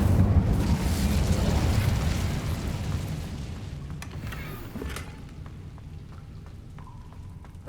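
Incendio fire spell cast in Hogwarts Legacy, a loud roaring burst that fades into a crackling, sizzling rumble with a few sharp pops.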